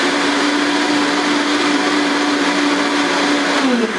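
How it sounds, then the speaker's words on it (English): A Vitamix blender liquefies chicken soup in a loud, steady whir with a constant motor tone that dips slightly in pitch near the end, heard alone with no talking. "I have my handy dandy Vitamix over here. It's going to take about a second, and I'm gonna whisk this all up."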